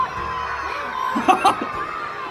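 An audience at a live rap performance in Iisalmi shouting out votes for the winner, a brief burst of several loud voices yelling together midway over a faint background murmur.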